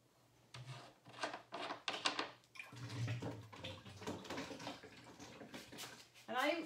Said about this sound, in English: I just always empty it right back in to the jug from which it came